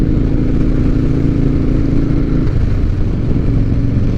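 A 2007 Harley-Davidson Night Train motorcycle engine idling loud and close, a continuous low rumbling throb with a slight shift in tone about halfway through, heard alone without talk.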